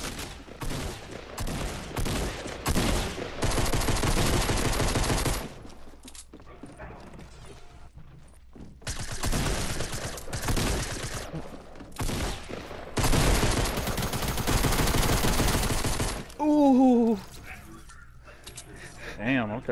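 Rapid bursts of pistol and gunfire from a Fortnite match crackle in loud clusters with pauses between, ending in a short rising electronic tone.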